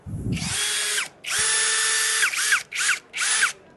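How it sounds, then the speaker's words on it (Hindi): Eastman cordless power drill, shown at a hardware trade fair, whirring in loud bursts: one long run, a second long run, then two short triggered spurts as the motor spins up and down, with no talk. "और फिर ये ड्रिल्स हैं"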